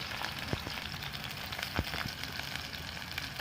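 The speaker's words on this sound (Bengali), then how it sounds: "কড়াতে তেল দিয়ে দিলাম মধ্যে দেবো আমরা রসুন কুচি লঙ্কা কুচি আদা কুচি" Garlic, chili and ginger fry in hot oil in a wok, giving a steady, close sizzle throughout with a few sharper pops and crackles.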